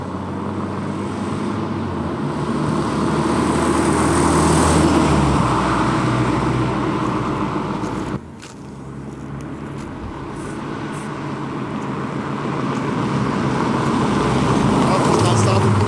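A Toyota 4Runner fitted with a swapped-in 3RZ engine drives along, giving a loud, steady road-and-engine roar that dips briefly midway before building back up.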